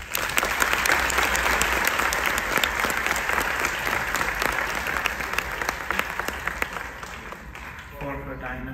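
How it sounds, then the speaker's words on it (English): Audience applause for a school principal at an auditorium inauguration, a dense sustained clapping that fills most of the clip before thinning out near the end. "She deserves a round of applause."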